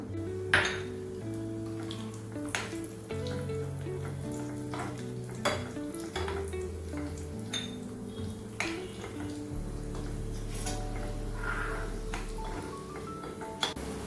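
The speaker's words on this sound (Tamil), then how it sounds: "இந்த முந்திரி பருப்பு போட்டுக்கலாம் சிவக்க வறுத்துக்கலாம்" Cashew nuts roast in hot ghee in a pan with a steady sizzle, an occasional clink of a spoon on metal, and background music playing throughout.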